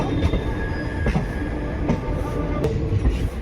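Bikaner–Delhi Sarai Rohilla SF Express pulling out of Churu Junction, loud steady rumble of railcars with rhythmic wheel clatter and occasional sharp metallic squeals and clanks, no talking.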